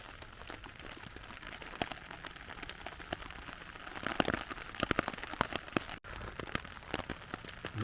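Rain falls steadily during a November bushcraft camping trip, with scattered drops pattering close by on a surface over a continuous wet hiss and no voices.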